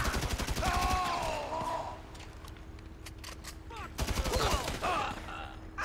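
Gunfire in the video game GTA 5 Online crackles as a few sharp, fairly faint shots in the middle, while people talk before and after them.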